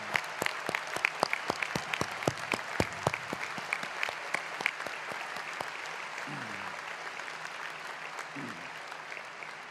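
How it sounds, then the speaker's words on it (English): A high school graduation audience claps for the parents, dense steady applause filling the hall, with brief murmuring voices underneath. "will you join me in giving your parents a round of applause for all that they've done?"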